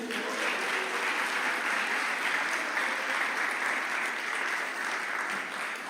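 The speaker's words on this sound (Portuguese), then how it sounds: "Você pode aplaudir o Senhor por isso?" A church congregation applauds during a sermon, giving a dense, even wash of clapping that holds steady at a constant level for several seconds.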